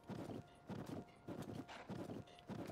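Hooves clip-clop in a steady, regular walking rhythm of repeated paired beats as a horse trots along in Zelda: Tears of the Kingdom, moderately loud and with no voices.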